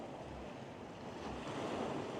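Sea waves wash onto a beach in Benidorm in winter, a soft continuous surf rush with gentle swells and some wind buffeting the microphone, with no voices.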